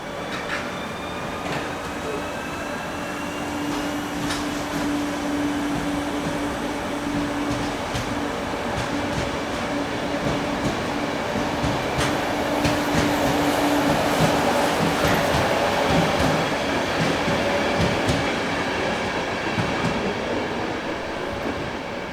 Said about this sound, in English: 380-003 gets its Budapest to Prague service away from the platforms at just after 3 in the